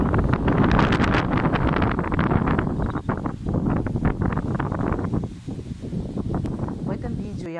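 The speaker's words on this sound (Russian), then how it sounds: "Постоянный вот этот шторм, постоянный этот ветер." Strong, constant stormy wind by the sea in Turkey buffets the microphone in loud, rough gusts that swell and dip, with a voice speaking over it.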